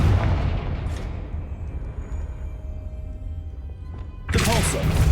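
Confringo blasting spell in Hogwarts Legacy: a rumbling, booming game soundscape under a low steady roar, then a loud burst near the end with a voice over it.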